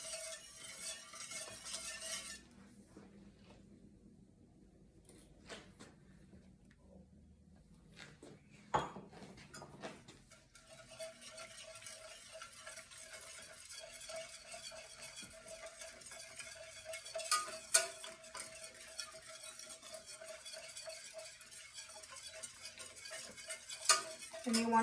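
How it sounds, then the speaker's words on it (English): A whisk working spelt flour into melted butter for a roux for shrimp étouffée: quiet, continuous scraping and ticking against the pot with a faint sizzle, a short lull early on, then steady stirring. "once your butter starts to melt, you're gonna whisk in your flour to make a roux"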